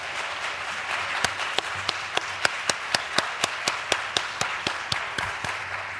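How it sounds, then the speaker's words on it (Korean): A church congregation at an Easter revival service claps in rhythm to glorify God, with steady, sharp, evenly spaced claps over a broad crowd wash, close and moderately loud. "우리 한번 박수로 한번 하나님께 영광 돌리면 어떨까요?"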